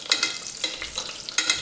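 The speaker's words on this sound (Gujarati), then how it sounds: "હવે આપણે રીંગણાને આ રીતે હલાવતા રહીને 2 મિનિટ સુધી સાતળી લેશું" Stuffed brinjals stirred and sautéing in hot oil inside a cooker, a steady close sizzle broken by several scraping stir strokes across the short stretch.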